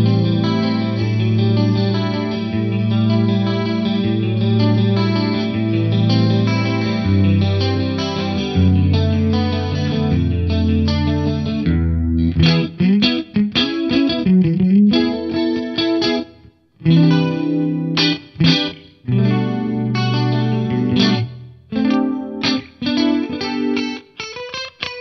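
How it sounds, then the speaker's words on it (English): An instrument runs through an H3000 micro pitch shift stereo effect placed after everything else, giving a wide, chorused, shimmering tone. The playing is continuous and loud, with sustained chords first and then choppier, broken phrases, and no talking. "I've got the H3000 micro pitch shift on post everything."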